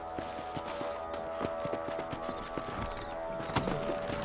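Steady clip-clop of hooves at a trot in Red Dead Redemption, rhythmic and fairly close, with a soft musical bed underneath and a brief whinny-like accent near the end.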